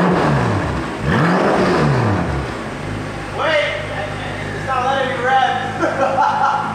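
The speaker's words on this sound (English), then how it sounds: "even in a stock setup with the crop image titanium exhaust, it still sounds pretty damn loud and very aggressive" A BMW F10 M5 with a titanium exhaust revs loudly and aggressively, the engine note rising and falling in bursts while people talk and chuckle nearby.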